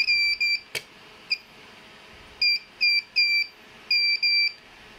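A smoke alarm beeps during a battery change, giving short, sharp high-pitched chirps in irregular pairs and groups with quiet gaps and a single click between them.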